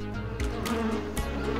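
Buzzing of cartoon bees swarming around a hive, a dense droning hum with several overlapping pitches that swell and fade over a short moment, mixed with other cartoon sound effects.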